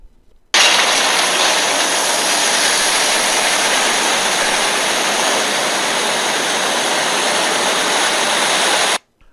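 In Batman: Arkham City, water pours in through a hatch yanked open, a loud, dense, steady roar of rushing flow that starts abruptly, holds unchanged for about eight seconds, then cuts off sharply.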